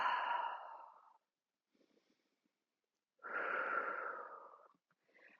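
Deep breathing during a Pilates reformer stretch with knees rolling to one side: one long breathy exhale, a pause with faint rustling, then a second full breath, close and steady with no talking.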